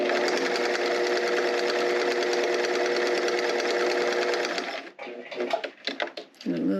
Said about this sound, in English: I'm going to go to the machine and top stitch all the way down.